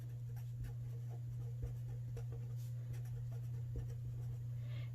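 Quiet hand-writing, short scratchy strokes in irregular bursts, close to the microphone over a steady low electrical hum.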